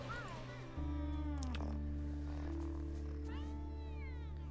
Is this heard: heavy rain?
no